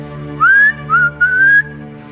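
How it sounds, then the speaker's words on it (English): A person whistles close by to call a dog, a few rising, sliding notes in a short call-like phrase repeated over a low steady hum. "whistling for that dog of his"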